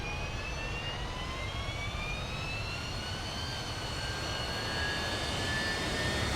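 Airplane engines in the video game ArmA 3 drone steadily as aircraft line up during carrier deck training, a loud continuous jet roar with slowly rising whining tones and no voices.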